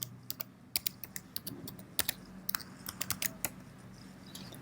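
New password typed on a computer keyboard, a quiet run of sharp, irregular key clicks with short pauses between them.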